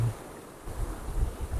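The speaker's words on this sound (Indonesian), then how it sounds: "Ombak yang bergulung memecah keheningan." Ocean waves rolling and breaking on a beach on the south coast, a broad, rumbling wash of surf that swells and recedes, with wind buffeting the microphone, steady and fairly near with no voices.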